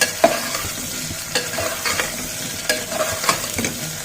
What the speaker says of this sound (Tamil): ஒரு மாங்காய் ஃபுல்லாக சின்ன சின்ன பீசஸாக கட் பண்ணி வச்சுருக்கேன். அதை சேர்த்துக்கலாம். சேர்த்துட்டு நல்ல ஒரு வதக்கிக்கலாம்.